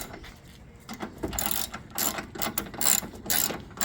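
A 1/2-inch drive ratchet works on a car's airbox bolts ahead of a spark plug change, its pawl clicking in quick, close bursts of repeated strokes with short pauses between them.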